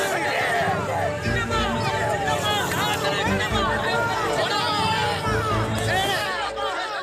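A frenzied crowd at a midnight stop in Vellore gives off dense, steady hubbub of many voices with scattered shouts and whoops, close and continuous throughout.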